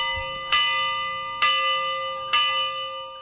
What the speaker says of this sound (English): there's little noise apart from bells and singing.